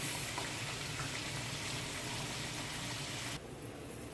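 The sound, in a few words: pineapple boiling in a pot for Jamaican sweet and sour chicken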